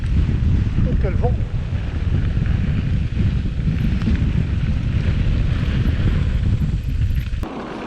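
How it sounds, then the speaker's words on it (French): Strong wind roars steadily against the microphone of a mountain bike rider's GoPro Hero9, a dense low rumble that buffets continuously before dropping abruptly near the end. "Oh, quel vent!"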